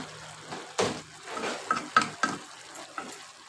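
Fried vegetables stirred in a pan, a soft sizzle under a few scraping, clattering strokes of the spoon, close and fairly quiet.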